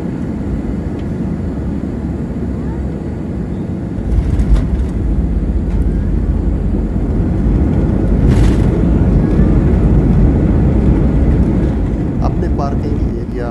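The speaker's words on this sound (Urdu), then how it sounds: "ہم لوگ ابو ظہبی ایئرپورٹ پر لینڈ کرنے والے ہیں۔" Etihad Airways airliner landing at Abu Dhabi airport, heard from inside the cabin: a loud, steady broadband roar of engines and airflow that swells slightly after a few seconds and holds throughout.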